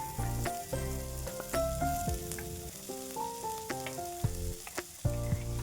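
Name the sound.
chopped cluster beans added to frying onions and stirred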